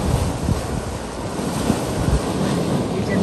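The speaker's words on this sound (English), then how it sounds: "Rolling or boiling churning caldron is scalding hot" The churning mud cauldron at Yellowstone's Mud Volcano area gives off a steady, dense roar of bubbling and sloshing, loud and close, with low gurgling bursts and no talk over it.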